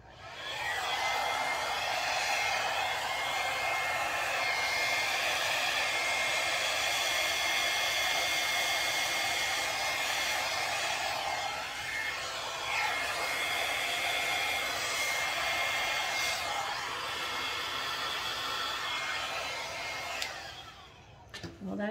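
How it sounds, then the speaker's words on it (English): A hair dryer blows steadily on poured acrylic paint, a continuous close airy rush that holds nearly unchanged for about twenty seconds before cutting off at the end. "I like the flow of the hair dryer."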